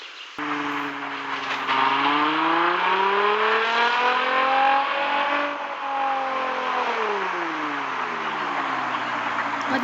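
A car engine revs loudly and steadily, its pitch rising and falling as the vehicle accelerates and drives up close, with no talking over it, in a Turkish police drama.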